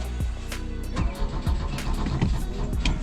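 A 1979 Volvo 242 GT engine cranks with difficulty, a rapid rhythmic churning of the starter and sputtering catches repeating close by before the motor begins to turn over unevenly.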